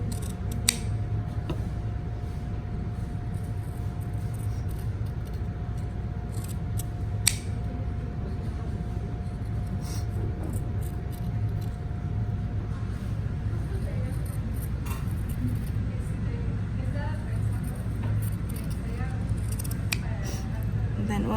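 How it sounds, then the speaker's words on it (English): Sharp scissors cut through earring material in a steady run of soft, crisp snips under a constant low hum, with occasional louder clicks along the way. "we want a good pair of sharp scissors, so we don't have to go over what we're cutting too many times"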